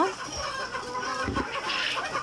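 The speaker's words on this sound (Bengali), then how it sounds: "এই যে আমাদের অরিজিনাল মিশরীয় ফার্মে মুরগিগুলো" Egyptian Fayoumi chickens cluck on a farm, a steady mix of overlapping hen calls at moderate distance with a little background noise throughout.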